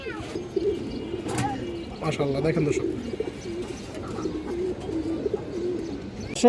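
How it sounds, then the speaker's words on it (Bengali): Pigeons coo in low, repeated throaty phrases, including a silver female pigeon, close by under someone talking, with a few chirps mixed in. "একটা সিলভার মাদি কবুতর আছে মাশাআল্লাহ"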